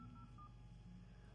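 Phone keypad tones sound as numbers are typed on a Samsung Galaxy S26 Ultra, giving a few brief, quiet, steady beeps in quick succession over faint background hum.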